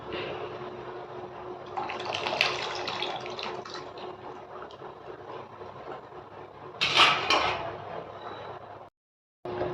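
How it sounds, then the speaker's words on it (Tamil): Tamarind water pours into a pot of simmering sambar made with elephant foot yam, producing a continuous splashing gurgle that swells midway and ends in a sharp burst before cutting off. "இந்த டைமில் தான் நம்ம புளி தண்ணியும் சேர்த்துக்கணும்."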